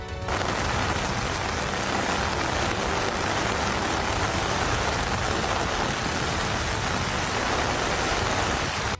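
Heavy rain pours down steadily, a dense, loud hiss of drops hitting surfaces without pause.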